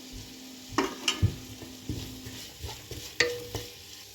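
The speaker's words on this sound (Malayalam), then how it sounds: "സവാള ഇട്ടൊന്ന് ഇളക്കണം" Sliced onions with a pinch of salt frying in a pan, a low sizzle broken by a few spoon scrapes and light taps, fairly quiet.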